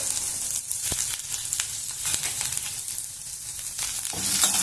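Onions frying in a pan until they take on color, a loud, close, continuous sizzle with occasional sharper crackles and stirring scrapes.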